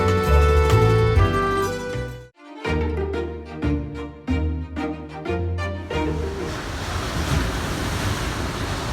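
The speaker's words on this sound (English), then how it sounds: "Just come down to a little pebble beach. The sea looks really lovely, but the waves do look a little bit ferocious." Sea waves surge onto a pebble beach on a windy coast, with a rough, broad wash that swells and rolls continuously, heavy wind buffeting the microphone, and tonal sound mixed into the first half.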